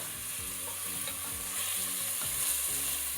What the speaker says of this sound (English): Now that our onions, spices, coriander, and mint have fried for some time